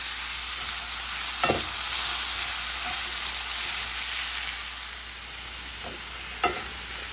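Onions frying in olive oil in a pan for Peruvian lomo saltado, a steady broadband sizzle with a couple of brief stirring scrapes, no talking.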